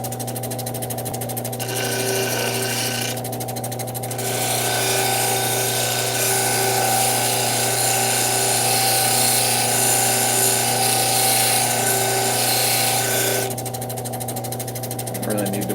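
A cabbing machine polishes an unfinished estate stone at 3000 grit, giving a steady mechanical hum with a rhythmic rattling whir close by, and bursts of brighter scraping as the stone is pressed to the wheel.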